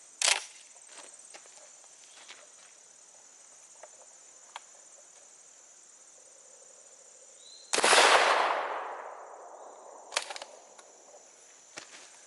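A Stoeger M3000 shotgun fires a single loud, sharp blast outdoors during a 12.5-yard choke test, its report decaying over about a second over a background of chirping crickets and a few faint clicks.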